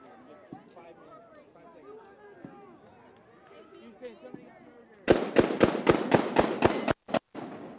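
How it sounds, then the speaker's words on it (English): A burst of rapid automatic gunfire rings out during street protests in the Twin Cities after George Floyd's death. The loud, evenly spaced shots come in a quick string after a stretch of crowd chatter and distant voices. "automatic gunfire."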